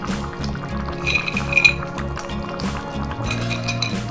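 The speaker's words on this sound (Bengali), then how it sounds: "এবার ভেজে রাখা বড়িগুলো দিয়ে দিচ্ছি।" Fried lentil dumplings drop into a pot of simmering shukto, a Bengali vegetable stew, giving soft liquid plops and a few light clinks against the pot over a steady background bubbling.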